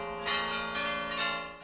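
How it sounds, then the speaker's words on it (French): Carillon bells in a Flemish tower ring in short, overlapping metallic strikes with long shimmering decay, fairly faint and distant. "on a rajouté des cloches et c'est devenu ensuite un carillon"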